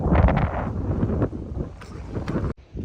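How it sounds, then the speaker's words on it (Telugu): Wind blows hard at the Kondapochamma Sagar Reservoir, buffeting the microphone in a continuous gusty rumble that cuts out briefly near the end. "ఇప్పుడు గాలి సౌండ్ వస్తుంది కదా"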